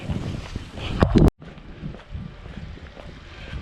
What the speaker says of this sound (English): Windy and rainy.